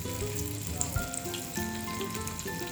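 Round slices of fenugreek (methi) vadis sizzle in hot oil in a pan, a quiet, steady crackle with scattered pops and no talking.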